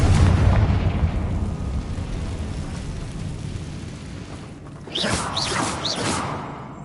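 A Confringo spell blast in Hogwarts Legacy: a loud, deep explosive boom at the start that rolls into a long rumbling decay. A fainter burst of bright, warbling magical effects comes near the end.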